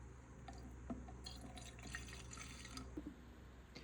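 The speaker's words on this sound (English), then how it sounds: "This is how you fill up the water tank and solution." Water runs from a tap into the water tank of an Aspiron wet and dry vacuum mop, a steady close trickle with a few small drips and clinks, no talking.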